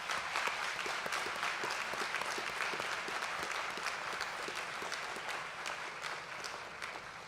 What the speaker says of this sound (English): Let's give your faculty a round of applause.